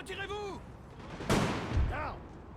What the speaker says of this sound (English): It looks like our artillery is doing a fine job.